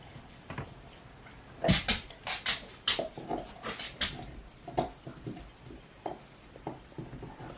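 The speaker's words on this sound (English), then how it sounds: "my dog is loudly chewing on a bone" Irregular crunching and gnawing bursts from a dog chewing a bone, close by, with pauses between bites against a quiet room.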